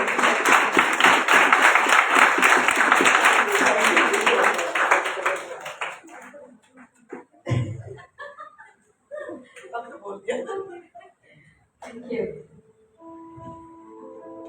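Dense, loud applause from a church congregation at a Sunday worship service, celebrating Sister Meenu's birthday, fills the first six seconds before fading into scattered claps, chuckles and talking.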